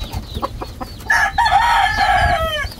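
A gamecock crows once, loud and near, in a drawn-out call that rises and then trails off after a few soft clucks and scuffing sounds.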